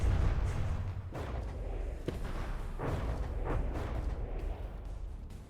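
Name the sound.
torpedo hits and explosions in From the Depths video game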